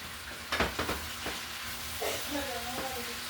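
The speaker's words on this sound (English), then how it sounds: "Put in my spinach now, so I'm gonna stir fry it" Spinach stir-frying in a pan, with sizzling and stirring scrapes. Several sharp clatters come near the start, then a steady hiss and faint utensil knocks continue.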